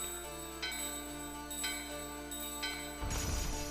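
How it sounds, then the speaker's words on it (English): A door bell in the Final Fantasy IX video game rings in a few light, evenly spaced chimes over a steady musical background, followed by a brief burst of noise at the end. "I'm going to ring the bell on the fancy brown one."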